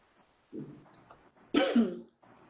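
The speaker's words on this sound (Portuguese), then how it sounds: "Eu tô com uma alergia muito grande, tô tossindo sem parar." Two bursts of allergy coughing and throat clearing from one person, close up, the second harsher and louder, with quiet pauses between.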